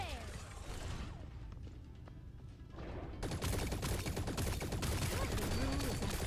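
Gatlyn's gun firing in T3 Arena gameplay, rapid dense volleys of shots that thin out briefly then return louder and sustained, with a voice talking over parts of it.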